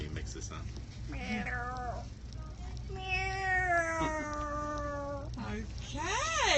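A man imitates a cat with a series of drawn-out, wavering meows, close and clear over a low steady hum, with talking mixed in.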